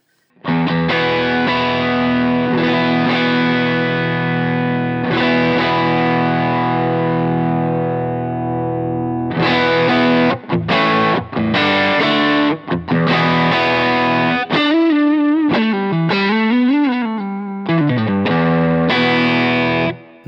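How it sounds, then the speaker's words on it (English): An electric guitar plays through a JHS Double Barrel pedal, Moonshine side, with the gain switch set to minus, giving a pushed, mildly distorted tone: long ringing chords, then choppy stabs and a bending lead line, loud and close. "in the Moonshine, the right side, let's hear that little gain push there. So this is what it sounds like on the minus position"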